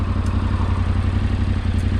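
Yamaha Tenere 700 adventure motorcycle being ridden, its engine droning steadily and loud at a low pitch throughout, with wind and road rumble mixed in and no talking.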